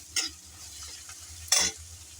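Chopped ginger and garlic frying in a pan give a soft, continuous sizzle under two sharp stirring scrapes, with a low steady hum beneath, and no talk.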